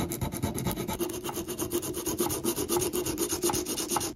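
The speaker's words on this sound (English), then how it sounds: "And I'll sand this to make it smooth." Sandpaper rubs back and forth on a maple axe handle in quick, steady rasping strokes, close and loud, with no talk.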